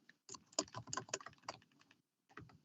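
Typing on a computer keyboard during a committee meeting: a dense run of quick clacking keystrokes for about two seconds, a brief pause, then a few more, moderately close with no talk.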